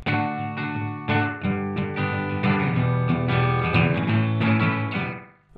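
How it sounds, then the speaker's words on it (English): An electric guitar plays a rockabilly riff through a Gibson Mercury 2 amplifier with a Time Space echo delay, giving a strummed, rhythmic run of chords with echoing repeats, close and clear, fading out at the end without talking. "I'm going through the Gibson Mercury 2. I'm going through a time space echo delay thing."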